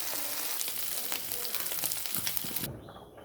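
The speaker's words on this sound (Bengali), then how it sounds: "মাছটিকে ভেজে নিচ্ছি গরম তেলে" Small cleaned fish fry in hot oil for a fish curry, giving a dense, steady, close sizzle that cuts off abruptly near the end, with no talking.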